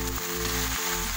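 Pumpkin leaves sizzle steadily in a hot pan as they are stirred, a close, continuous frying crackle with faint scrapes and no talking.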